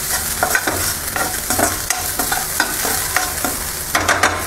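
Samak rice (bhagar) roasts in a pan on a gas stove, with a spoon stirring in repeated scraping strokes over a soft, steady dry sizzle, close and fairly loud, with no talking.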